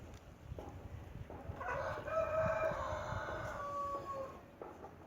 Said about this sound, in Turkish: horozumuz da geldi.